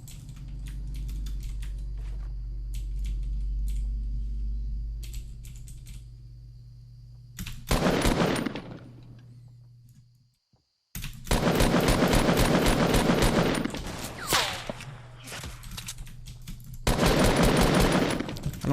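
Bursts of rapid video game gunfire, loud and close, with dense rattling volleys coming in several stretches and broken by a brief silent gap.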